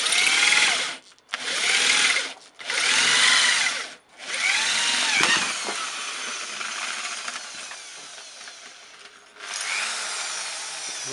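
Parts of a forged metal candlestick are welded, heard as a few harsh buzzing bursts followed by a longer crackling run that fades, then another burst, close and fairly loud.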